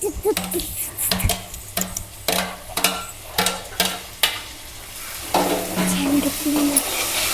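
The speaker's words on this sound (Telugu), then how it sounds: "ఉల్లిపాయలు మగ్గుతున్నాయి కదా, ఒకసారి టమాటా కూడా వేసుకుంటే వాటితో పాటు ఇవి కూడా మగ్గిపోతాయి" Onions and tomato sizzle in a pan for a Tirupati-style curry, with a run of rhythmic scraping stir strokes followed by a continuous, louder frying crackle.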